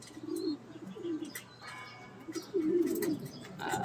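Soft, low pigeon coos repeat in short phrases over a steady background hum, with a few faint chirps and rustles between them.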